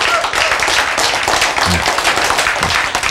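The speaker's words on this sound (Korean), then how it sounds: "박수!" A church congregation breaks into brisk, dense clapping at close range, a steady burst of applause for about three seconds with a few voices faintly mixed in.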